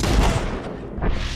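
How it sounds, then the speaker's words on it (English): A single loud, close gunshot boom from Red Dead Redemption 2, followed by a second softer blast about a second later, both deep and rumbling. "Shoot them where they stand!"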